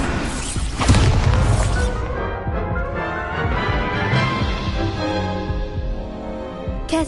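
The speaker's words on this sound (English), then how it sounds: "Confringo!" A Confringo fire-blast spell from the Hogwarts Legacy video game lands as one heavy boom near the start, followed by sustained orchestral game music.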